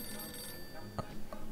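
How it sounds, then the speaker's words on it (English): A telephone rings in the Mafia II video game, a brief electronic ring under a steady background hum. "Answer the phone, X."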